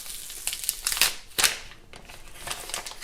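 Huawei P30 Pro smartphone packaging being unwrapped, close crinkling and tearing of plastic and paper in quick irregular bursts.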